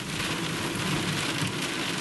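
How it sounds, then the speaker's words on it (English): Heavy rain pours steadily during a thunderstorm, a dense, loud hiss with low rumbling thunder underneath, no voices. "you guys can hear the thunder and lightning here"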